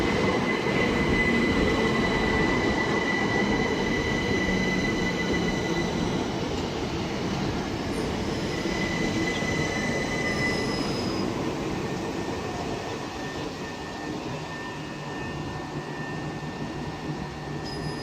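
A Class 375 electric train pulls out of Faversham station with a steady, close rumble and thin whining wheel tones that slowly fade and ease as it leaves.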